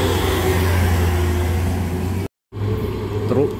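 A Mitsubishi Canter diesel truck rolls by on a rough uphill road during night roadworks, its low engine hum and rev steady and close, briefly cut by a silent gap before resuming.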